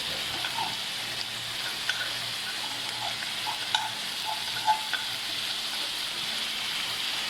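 Mutton keema fries with green chilli, salt and black pepper in a pan, giving a steady close hiss and crackle with a few light stirring knocks, no voices over it.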